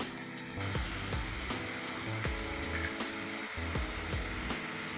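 Crushed garlic sizzles steadily in a hot pan for bhindi masala, a continuous close frying hiss broken by regular scraping strokes of a spoon stirring through it.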